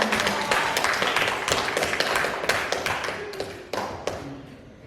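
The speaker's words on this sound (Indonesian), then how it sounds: "Itu tepuk tangan buat kita semua." Teachers and staff at a school gathering give a burst of applause, dense and steady at first, then thinning out into scattered claps before fading.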